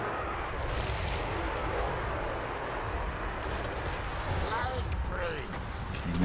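Troops firing in a fantasy strategy video game keep up a dense, continuous clatter of shots and impacts throughout, with someone talking over it.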